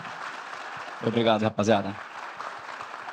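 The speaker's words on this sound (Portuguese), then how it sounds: "Eu queria uma grande salva de palmas para os colegas aqui que participaram." A live audience applauds steadily throughout, a broad wash of clapping from a crowd at a talk event, while someone briefly speaks a thank-you over it.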